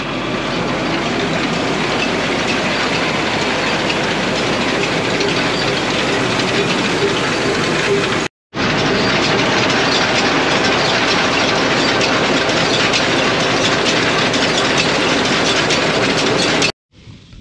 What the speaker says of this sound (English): We got the baler all fixed up.